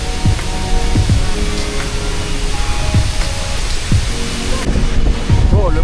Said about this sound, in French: Et là, on va aller passer sous la cascade.